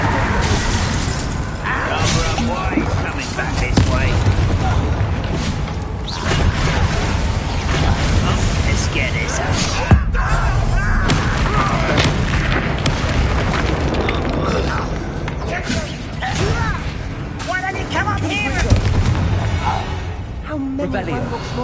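Explosive Bombarda and Confringo spells blast during combat in Hogwarts Legacy, with repeated booms and shattering crashes over a constant dense wash of game sound, and voices speaking throughout.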